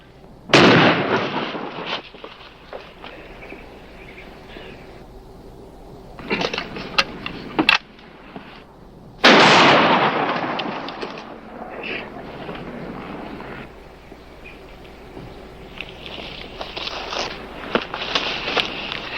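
Shotgun gunfire in a western TV shootout in a canyon: two loud booming blasts several seconds apart with echoing tails, plus scattered softer shots and clatter in between.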